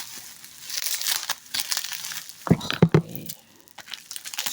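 A parcel being unwrapped, with tape, plastic and bubble wrap crinkling and tearing close by, in uneven bursts that include a loud crunchy stretch in the middle.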